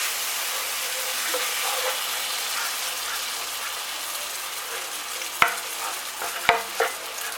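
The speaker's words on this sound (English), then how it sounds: "Constantly stir." A milk sauce for chicken and ham pie filling is stirred steadily in a pan, giving a soft continuous scraping and gentle sizzle, with a few sharp utensil knocks against the pan near the end.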